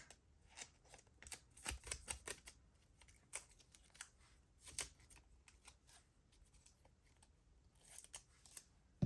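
Scissors trimming paper for a B5 dated planner page: a close, quiet run of crisp snips and light paper rustles in uneven bursts, with no talking.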